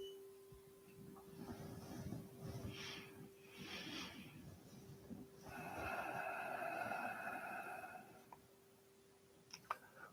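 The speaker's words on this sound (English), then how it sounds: "Deep, peaceful belly breathing" Slow, deep breaths during a meditation come close to the microphone as soft, airy inhales and exhales, with a faint steady hum underneath and a few small clicks.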